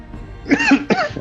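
A person coughs twice in quick succession, close and fairly loud, a harsh throat-clearing burst with no talk over it.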